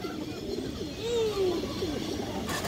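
A female pigeon coos in a pigeon loft, a soft low rolling call that rises and falls over a second or so, repeated briefly amid faint background bird chatter.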